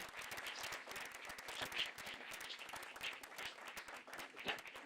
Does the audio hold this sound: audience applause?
yes